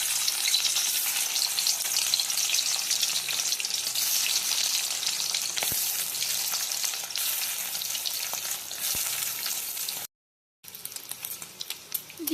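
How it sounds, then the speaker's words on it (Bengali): Pieces of steamed egg (dim bhapa) sizzle and crackle in hot oil in a wok, a loud, steady, close frying hiss with a brief dropout near the end. "এবার এক এক করে কেটে রাখা ডিমের ভাপাগুলো ভাজতে দেওয়া হবে।"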